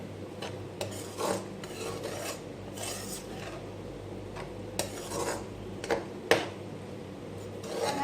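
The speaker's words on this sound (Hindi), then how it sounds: "बंद गोभी, ये सब हमने इसके अंदर डालकर इसको अच्छी तरीके से मिक्स कर लेना है एक बार" Cabbage and other vegetables stirred and fried in a pan, with steady rasping scrapes of a spatula against metal, occasional sharper clinks, and a faint sizzle underneath; no talking.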